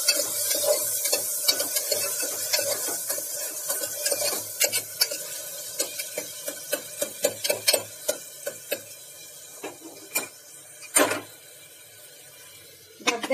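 Tomatoes sautéed in a pan for a bottle gourd and arhar dal: a steady sizzle with repeated scraping stirs from a spoon, ending in a few sharper clanks, with no talking.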